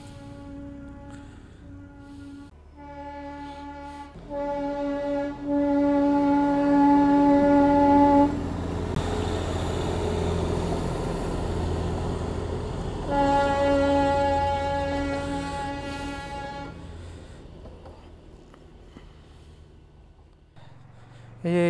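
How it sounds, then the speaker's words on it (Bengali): Darjeeling toy train on the hill route sounding long steady horn blasts, loud and sustained with a rumbling rail-car roar between them, fading gradually toward the end. "আমি কিন্তু ট্রেনের আওয়াজ শুনতে পাচ্ছি, কিন্তু ট্রেনটা দেখতে পাচ্ছি না।"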